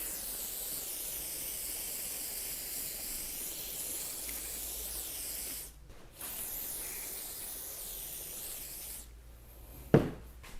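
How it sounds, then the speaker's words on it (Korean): An aerosol can of WD-40 sprays in a long, soft, steady hiss, broken by two brief pauses, with a small click near the end. "WD-40 뿌릴게요."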